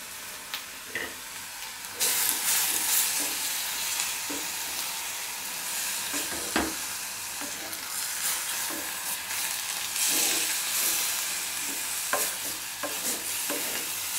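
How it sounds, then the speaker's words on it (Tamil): Chicken gravy with coconut milk is stirred in a hot pan. A spoon scrapes and stirs in steady strokes over a continuous sizzle and hiss. No one speaks. "ஒரு 3 நிமிஷம் அப்படியே கிளறுங்க."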